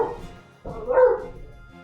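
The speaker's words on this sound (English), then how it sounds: "I do apologize for the barking in the background if you can hear it." A single muffled dog bark in the background of a livestream, faint and brief against quiet room tone.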